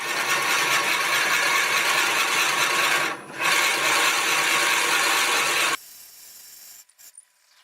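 A wood lathe at 380 RPM drills a hole with a 1 1/8 inch bit, a loud steady grinding whir that dips briefly and then cuts off, leaving faint clicks and rattles.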